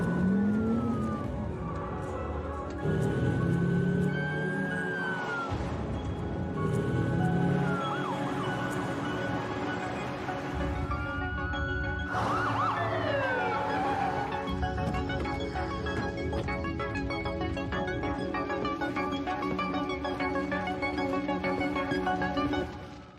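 A wailing ambulance siren in the game Path of Exile rises and falls continuously over a busy, steady background of engine and ambient noise, with no talking.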